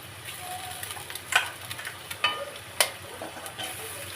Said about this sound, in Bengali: এবারে ডিমটা আস্তে আস্তে ভাজা হবে